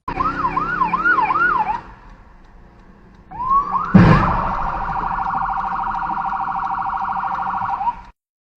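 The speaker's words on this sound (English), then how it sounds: "This guy doesn't hear the ambulance siren." An ambulance siren wails in rising and falling sweeps, pauses, then returns with a sharp blast and a long steady tone, loud and close.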